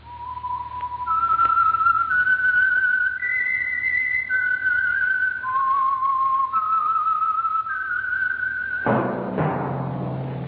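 A melodic whistled tune serving as the signature theme for the Signal Oil radio program The Whistler, a single clear whistle stepping through sustained notes over a faint hum, ending in a brief burst of orchestral sound.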